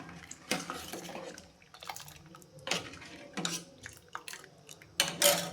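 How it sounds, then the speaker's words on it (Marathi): A spoon clinks and scrapes against a metal pot while basundi milk is stirred, in short irregular bursts with quiet gaps between them, close by. "याला चम्मच हलवत राहायचा कारण ते बूड लागणार नाही"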